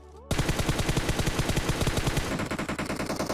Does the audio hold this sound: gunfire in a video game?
yes